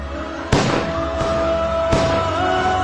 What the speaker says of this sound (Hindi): कार सेवकों पर गोलियां चली।